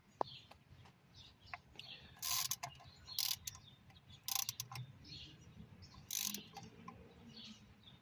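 A ratchet tightens the oil cooler bolts on a 2011-2023 Dodge Challenger in four or five short bursts of quick clicking, fairly faint against a quiet background.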